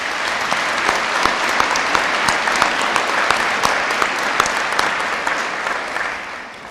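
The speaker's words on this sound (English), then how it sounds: "Can we give them a round of applause, please?" A graduation crowd at a high school ceremony breaks into steady applause, loud and full with individual claps standing out, continuing for several seconds before starting to fade.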